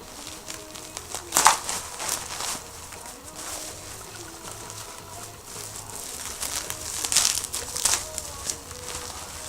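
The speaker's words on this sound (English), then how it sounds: "Fucking packing paper." Packing paper crinkles and crumples close up while airsoft gear is unboxed, irregular rustling bursts with a few louder crackling scrunches and quieter handling noise between them.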